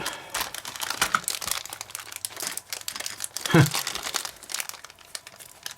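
Plastic packaging is torn and crumpled open by hand, with loud close crinkling and a sharp rip partway through, under a person's talking.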